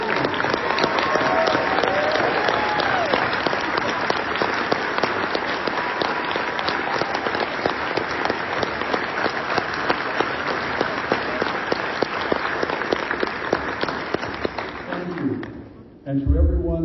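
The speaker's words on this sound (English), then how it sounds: "please stand up now and receive our appreciative round of applause" A large expo audience at an IAAPA panel honoring the creators of Universal's Epic Universe gives a loud, sustained round of applause. It runs dense and steady for about fifteen seconds, then dies away as a voice resumes.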